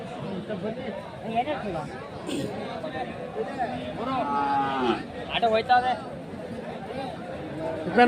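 Cattle moo loudly several times at a busy weekly cattle market in Channarayapatna, over a steady babble of people talking nearby.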